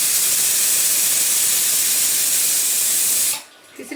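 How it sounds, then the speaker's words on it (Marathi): A pressure cooker vents steam in a loud, continuous hissing rush, steady for several seconds and then cutting off abruptly, leaving a quiet room. "इकडे मी कुकर ठेवलं इथे. आता इथे 2 शिट्ट्या झाल्या."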